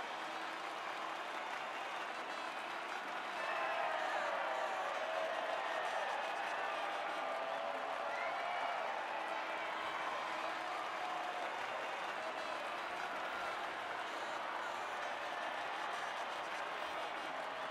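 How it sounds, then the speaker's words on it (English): At a Formula 1 podium ceremony, a large outdoor crowd cheers and applauds. The roar swells after a few seconds and then holds steady and dense. "the reaction from the crowd must be incredibly uplifting for them"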